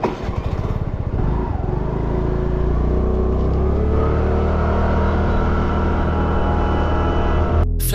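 A TVS Jupiter 110 scooter engine runs steadily up close, a continuous throaty hum with no break and no talking, cutting off abruptly at the very end.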